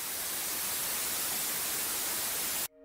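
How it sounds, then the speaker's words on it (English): Steady broadband white noise, a constant loud hiss spread evenly across the whole range, runs unbroken for over two and a half seconds and then cuts off abruptly into near silence. "you will get white noise, which will result in a shh sound"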